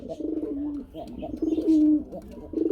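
Running pigeons at a market stall give repeated throaty coos in rolling bursts, close and fairly loud, with short pauses between phrases.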